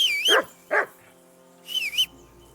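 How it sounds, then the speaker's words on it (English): A dog in Kingdom Come: Deliverance 2 barks in two close, loud bursts, then a third bark follows after a pause, all set over a quiet in-game background with no talking. "I assume you can hear that damn dog of yours barking."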